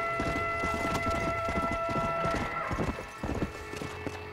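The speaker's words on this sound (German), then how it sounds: "Das war ein ganz normales Pferd" Horse hooves clip-clop at a steady walking rhythm in the zombie-themed western video game Red Dead Redemption: Undead Nightmare, close and clear over a soft game ambience, the steps briefly easing off near the end.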